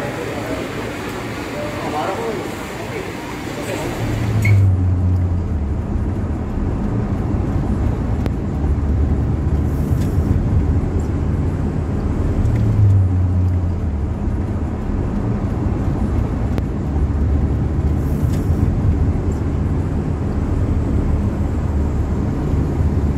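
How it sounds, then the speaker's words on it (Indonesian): A pick-up car arrives, its low engine rumble swelling in after a few seconds and holding steady under nearby people talking. "Mobil penjemput ini udah datang ini."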